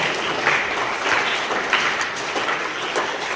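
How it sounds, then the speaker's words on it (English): Sustained audience applause at an inspirational workshop on creativity. Many hands clap in a dense, even wash with small swells, and no one speaks over it. "give yourself a huge round of applause for like large participation over here"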